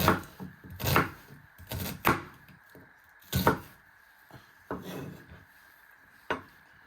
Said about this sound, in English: slicing them first, then turn them around and chopping them into little pieces